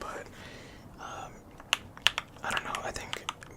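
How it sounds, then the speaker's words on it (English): Typing on a computer keyboard with a numpad: scattered sharp key clicks and taps, some louder strokes, close and crisp against quiet background. "It's been a while since I've actually used this keyboard to type on."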